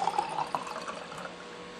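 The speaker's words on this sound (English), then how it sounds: "And it makes a really cool pouring sound" A short liquid pouring sound effect played by the WinSCP program on a computer, a brief bubbly fill that gurgles loudly at first and then tails off over a steady background hiss.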